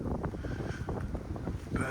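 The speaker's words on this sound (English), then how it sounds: "that wind's bitingly cold" Cold wind gusting across an exposed mountainside near Mt Wills in the Australian Alps, a steady, close, buffeting rumble against the microphone with slight rises and falls and no clear speech.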